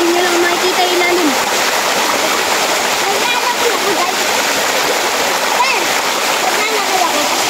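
Kawa Kawa Falls waterfall roaring steadily and loudly up close, a constant broadband rush of falling and splashing water throughout, with a brief tonal whistle near the start and faint voices mixed under the noise.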